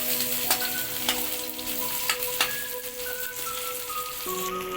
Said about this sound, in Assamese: পিঁয়াজখিনি ধুনীয়াকৈ ভাজি ল'ব লাগিব।